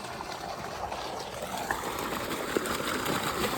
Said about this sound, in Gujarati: આ બાદ તો પાણી ચાલુ કરી દીધું છે કારણ કે વાડી છે